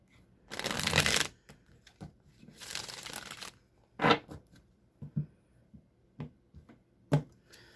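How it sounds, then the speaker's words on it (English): Tarot cards are riffled twice in quick bursts, followed by scattered soft taps and clicks as the deck is squared and handled. "I'm going to give it one more shuffle, then I'll cut the deck"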